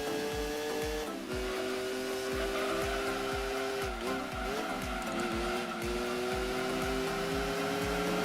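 Race cars including a Lamborghini and a Supra on the Apricot Hill circuit in Gran Turismo 2, with steady engine drone, shifting whine and tire squeal throughout, continuous and moderately loud, no voices.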